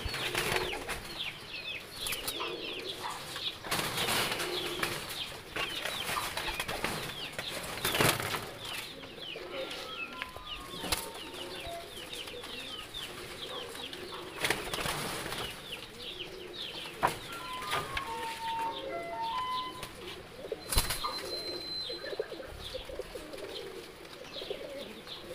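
Pigeons in a loft coo and flap their wings, with bursts of wingbeats and soft repeated coos over a constant busy background of birds; no talking.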